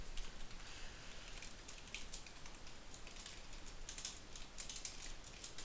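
Steady stream of rapid keystrokes on a computer keyboard while Prolog code is entered, close and continuous with uneven clicking bursts, no talking.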